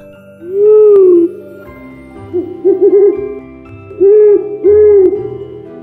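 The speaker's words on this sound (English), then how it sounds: "Owl." An owl hoots in a series of soft, rounded calls: one long hoot, a short wavering trill, then two more hoots, alone and clear.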